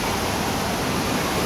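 Desert Falls waterfall roars as a steady, loud, unbroken wash of rushing water, heard up close with no voices.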